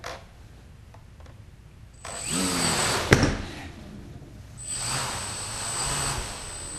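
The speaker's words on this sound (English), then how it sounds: "In intelligent mode, those motors will stay spinning at a predetermined rotational speed." A DJI quadcopter drone's motors spin up after arming, a loud whirring whine rising in two bursts with a sharp click between them, nearby and with no talk.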